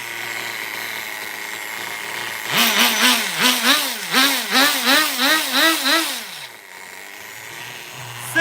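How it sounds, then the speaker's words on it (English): An HPI RS4 nitro RC car engine runs close by, a steady low idle broken by a rapid series of about eight buzzing throttle blips that rise and fall in pitch before settling back to idle. "It could idle like this for days."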